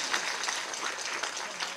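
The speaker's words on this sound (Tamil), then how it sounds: "நம்ம அனைவரும் ஒரு பெரிய கரகோஷத்தோட அவருக்கு நம்ம பாராட்டுகளை தெரிவிப்போம்" An audience at a Tamil movie audio launch for Veerayan claps steadily, a fairly quiet but dense patter of many hands throughout.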